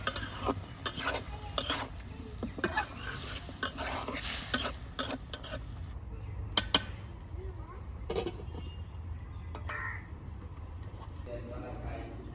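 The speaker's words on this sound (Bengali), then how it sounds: "টমেটোগুলো দিয়ে আমি ভালোভাবে আবার কষাই দেবো মশলাটা" Tomatoes and potatoes with spices are stirred and fried in a pan, with a spoon scraping and clattering in quick bursts over a steady low sizzle, loud at first then quieter with sparse knocks.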